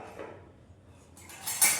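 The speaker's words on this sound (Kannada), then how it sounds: "ನೆಕ್ಸ್ಟ್ ಗೊತ್ತಿರೋದು ತಟ್ಟೆ ಸ್ಟ್ಯಾಂಡ್." Plates clatter against a metal plate stand as it is handled, a few faint clinks building into a brighter, louder rattle of dishes near the end, with no talk.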